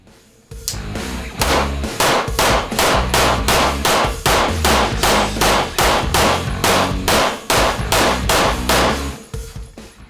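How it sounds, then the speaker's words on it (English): A handgun is fired rapidly at a target on a shooting range, about sixteen loud, sharp shots in a fast, even string that stops abruptly. "I'm going to shoot it somewhat fast, try to keep it in the red, just so you guys can see how flat it will shoot."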